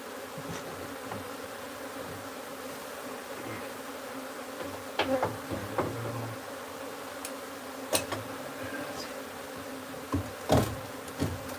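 Honey bees drone continuously around a wild hive being moved into a new home, the buzzing close and steady, punctuated by sharp clicks and taps of frames and comb being handled.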